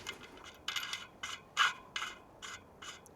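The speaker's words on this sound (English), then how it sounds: "I'll release these bolts until they're just hanging on." Bolts or nuts are loosened on the front wheel of a Vonride A20 electric tricycle, giving a series of about seven short metallic ratcheting clicks in bursts, close and fairly quiet.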